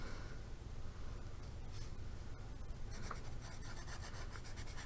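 Pencil scratching and rubbing across paper in a close, quiet setting, a steady soft scraping texture that continues for several seconds with no talking.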